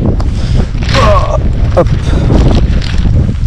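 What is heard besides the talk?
wind blowing on microphone outdoors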